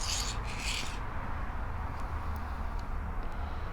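A file rasps over guitar frets in a continuous close scraping, with a brighter stroke at the start and a few faint ticks afterward.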